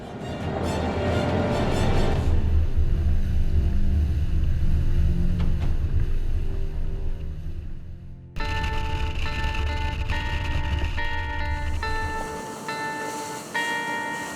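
A LOMAC Adrenalina 9.0 inflatable boat runs at over 30 knots at about 3,500 rpm, its outboard engine roaring steadily amid rushing water and wind noise, with a brief drop and shift in tone partway through.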